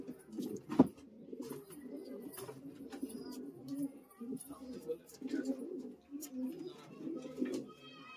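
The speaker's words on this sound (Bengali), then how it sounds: "এটা ম্যাট্রাস নর পায়রা" Madrasi pigeons cooing in a loft, a close, repeated rolling low coo that pulses on and off in a steady rhythm, with a few higher bird chirps and one sharp knock early on.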